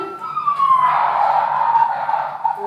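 A quiz buzzer plays a siren sound effect, a sliding wail that sweeps downward and then holds steady, heard alone and fairly loud through the whole stretch.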